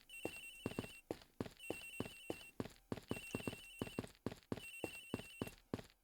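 Repeated electronic telephone ringing from the Ace Attorney Investigations video game, steady bursts of ringing with short pauses, alone and at constant loudness throughout.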